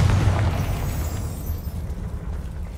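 A Confringo spell blast in the Hogwarts Legacy video game, a loud, deep booming explosion with a rumbling low-end burst that fades over a couple of seconds.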